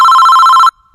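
A telephone rings with a steady electronic tone that sounds loud and close for under a second, then cuts off abruptly into near silence.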